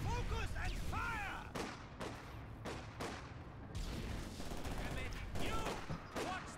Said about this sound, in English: We are taking infantry fire!